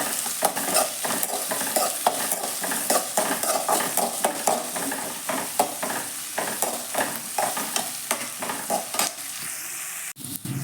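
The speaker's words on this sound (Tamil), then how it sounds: "இஞ்சி பூண்டு எல்லாம் போட்டு வதக்கணும்" Onions, ginger and garlic sautéed in a pan for paneer butter masala, with rhythmic scraping strokes of a spoon stirring over a continuous sizzle, close and fairly loud, ending in a sharp clank.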